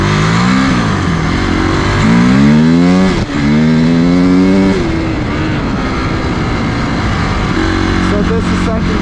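A 250cc dirt bike's engine revs up and down in first gear on flat ground as the rider rolls onto the throttle, the loud pitch rising in repeated climbs with a short gear-change dip.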